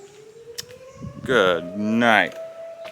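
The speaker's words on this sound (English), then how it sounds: "Tornado siren's going off." A tornado siren wails steadily in the background, a sustained tone running through the clip while someone speaks over it up close.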